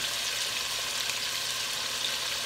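Strips of beef sear in a hot pan for a stew, producing a steady, moderate sizzle with an even hiss and no voices.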